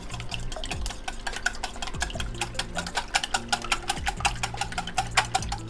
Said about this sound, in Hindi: अंडों को हम अच्छी तरह मिक्स करेंगे।